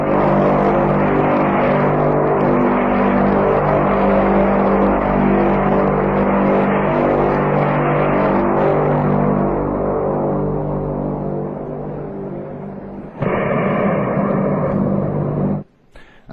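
A mysterious trumpet-like sound from the sky, heard as a loud sustained droning blare with layered tones that holds steady for about thirteen seconds. It then shifts to a harsher tone and cuts off abruptly.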